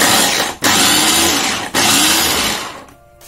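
A blender chopping vegetables, peppers and carrots, a loud continuous whirring grind broken by two short pauses before the motor winds down at the end.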